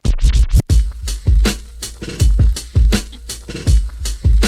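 DJ turntable scratching using the cut and fade technique over a beat: a steady run of sharp, rhythmic scratch strokes chopped on and off by the crossfader, loud and up close with punchy drum hits underneath.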